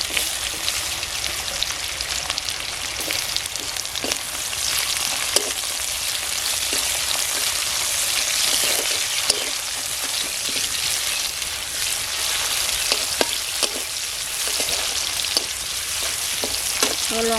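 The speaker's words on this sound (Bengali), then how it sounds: "তেলটা গরম হয়ে গেছে, রসুন হয়ে আসছে, এবার পেঁয়াজটা দিয়ে দেবো।" Onion and garlic frying in hot oil in a home kitchen, with a steady, loud sizzle and crackle running throughout, broken by occasional sharper pops and spatters, and no voices.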